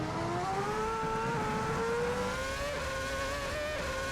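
A Formula 1 car in a racing video game laps Monza in 2008 trim, its engine whining high and steady as it climbs and short-shifts through the gears, continuous and loud with no voices.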